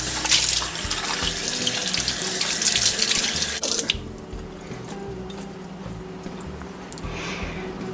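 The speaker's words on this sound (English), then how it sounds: "So I'm going to rinse it out real good and then move on to the next." Tap water runs into a hollowed bell pepper as it is rinsed at a sink, a loud close gush that cuts off sharply partway, leaving a faint trickle and drips.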